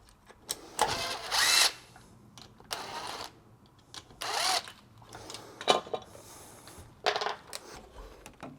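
Power drill driving screws while installing an all-metal shower valve, heard as several short close whirring bursts separated by pauses, with small clicks and handling noises between them.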